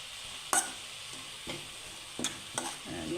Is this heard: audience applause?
no